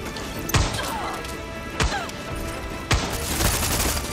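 Enemy shotguns firing in Far Cry 6: three sharp, punchy blasts land about a second apart over a steady background of game noise.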